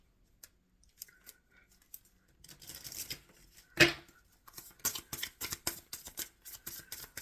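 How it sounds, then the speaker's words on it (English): Tarot cards are shuffled by hand: bursts of riffling and flicking, quiet at first, then busier and louder, with one sharp snap midway. No one talks. "I am going to shuffle this for the concluding message from Spirit."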